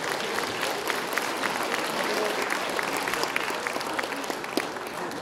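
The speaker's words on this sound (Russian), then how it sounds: "Ваши аплодисменты, между прочим." An audience at a youth music showcase in Molodechno claps steadily, a dense, even wash of applause holding at one level throughout.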